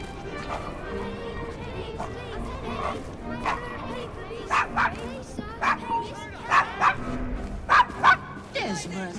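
Desmond, a dog in Assassin's Creed Syndicate, barks and yips in repeated short bursts that grow louder toward the end, mixed with game voices and street ambience.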